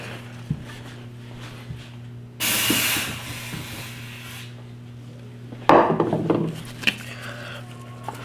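Cleaner sprays onto the rails of a Remington 870 Express shotgun in a loud hissing burst, followed by scratchy brushing and rubbing at close range, with a faint steady hum underneath.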